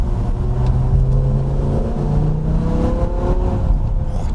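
A 2006 BMW M6 with a V10 engine accelerates hard, its high-pitched howl rising steadily through the revs, loud and close with no talking.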